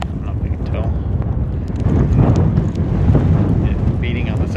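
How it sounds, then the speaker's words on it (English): Steady wind buffeting the microphone, a continuous low roar that swells slightly midway, with faint voices underneath. "it's windy, so I'm gonna end this here"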